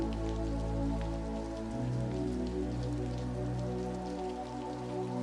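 Rain falls on a windowpane in a dense, unbroken patter, close and even, with a faint low drone beneath and no talking.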